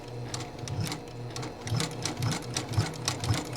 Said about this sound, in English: I don't know if I've oiled this sewing machine, like, ever